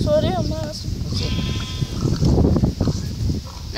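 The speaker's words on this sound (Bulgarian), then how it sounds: "Сори, ама аз съм овца." A sheep bleats in a survival video game set on an island, a short wavering call right at the start, followed by someone talking over game noise.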